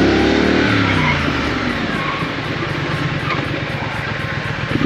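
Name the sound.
Triumph Street Scrambler motorcycle braking hard with ABS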